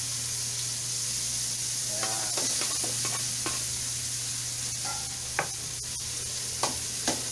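Steady sizzling of onions frying in a pan for salmon-head sinigang, with a constant hiss, occasional scraping stirs and light clinks, no voices.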